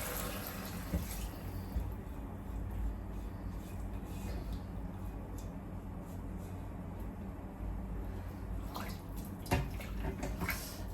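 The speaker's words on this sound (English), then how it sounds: "So it's time to add the water now." A steady stream of water pours and splashes into a pot, continuous and close, with occasional small clinks.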